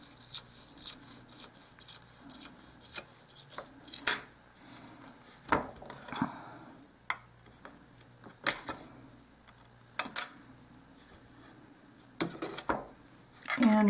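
A metal knife scrapes and lifts rolled-out polymer clay off a tile for a miniature dollhouse piece, giving soft close-up scraping with scattered sharp clicks and taps against the tile, intermittent and fairly quiet.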